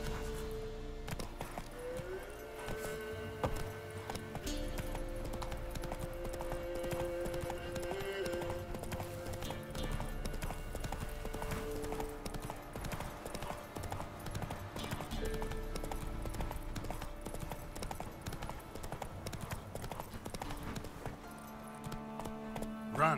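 Roach gallops through The Witcher 3 in a long, steady run of rapid clip-clop hoofbeats. The hooves keep going under a dense, constant layer of game music and ambience, with a brief whinny along the way.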